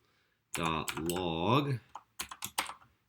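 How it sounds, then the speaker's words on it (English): Keys click on a computer keyboard as code is entered, with a few quick, close taps following a stretch of someone talking. "let's go ahead and type in console.log"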